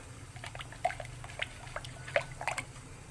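Red kuih lompang batter poured into a mould, a soft, quiet liquid trickle with a few faint drips and splashes against low background hum.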